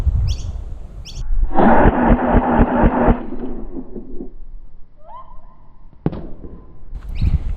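An LDT MP7 gel blaster rated at 300 fps fires a rapid burst of about a dozen shots at a target, loud and close, followed by a few single pops with quiet pauses between them.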